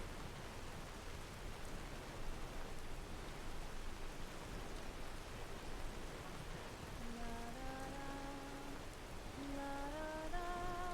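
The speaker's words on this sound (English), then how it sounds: "What about it's still raining in here?" Steady rain in a video game, a constant hiss of falling drops on surfaces throughout, with a faint sustained musical tone entering near the end.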